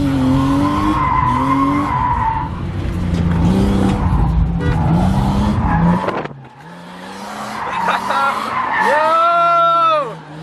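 A BMW E36 drift car skids with long tire squeals over a revving, bouncing engine note, the squeal sweeping up and down in pitch near the end; close and loud, with a brief drop-out midway.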